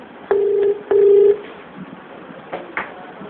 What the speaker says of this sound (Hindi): उन्हें फ़ोन लगाया जाए